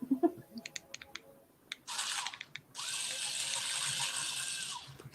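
An electric drill punches small holes in a birdfeeder. A few clicks and taps come first, then two close, buzzing bursts of drilling, the second longer and steady, with no talking.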